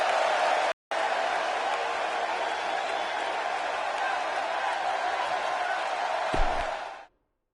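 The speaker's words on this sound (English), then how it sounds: "the crowd here tonight still in awe over that great match" An arena crowd at a WWE vs WCW wrestling game roars in a steady, dense wash of cheering and applause, briefly cutting out near the start and ending with a thump before stopping abruptly.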